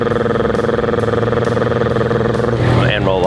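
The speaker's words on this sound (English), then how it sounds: "Rev the throttle for me. Makes a lot of noise, right?" Motorcycle engine revved on the throttle with the clutch held in, a loud sustained harmonic drone that swells and shifts pitch near the end, heard close up.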